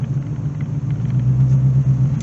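Low, close rumble of a struggling C4 Corvette engine that won't respond to the throttle, holding a rough, wavering idle without any rise in revs, with no talk over it.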